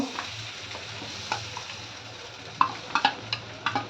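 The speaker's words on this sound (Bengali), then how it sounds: "কচু বাটাটা, যে পেস্টটা যেটা, সেটাকে ভালো করে মিশিয়ে, তেল গরম হয়ে গেছে, তার মধ্যে দিয়ে দেওয়া হলো।" Taro (kochu) paste sizzles and fries in hot oil while being stirred, with steady crackling and several sharp scrapes and clinks of a utensil against the pan toward the end.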